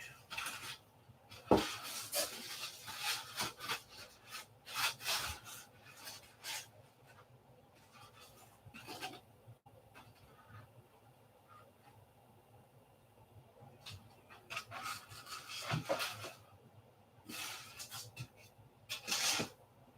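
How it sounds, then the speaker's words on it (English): Small 1/8 inch landing gear parts for a P-47 model being sanded by hand: intermittent close, soft raspy rubbing strokes in short bursts separated by quiet pauses. "These are 1/8 inch. We're gonna sand those up."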